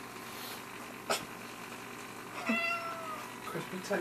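A house cat meows a few times over a faint background hiss, with one clear meow standing out near the middle, while a person nearby also calls out in a meowing voice.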